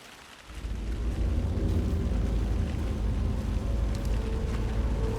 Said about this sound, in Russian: Дождик капает.